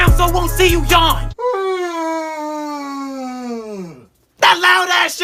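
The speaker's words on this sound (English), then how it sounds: "That loud ass yawn!" A loud, drawn-out human yawn, a long falling vocal moan lasting several seconds, bracketed by bursts of talking before and after.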